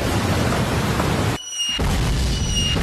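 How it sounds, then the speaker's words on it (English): Heavy rain hisses steadily, broken by a brief sudden drop-out; a dull rumble of thunder blends into the downpour. "POV that one thunder when it's raining."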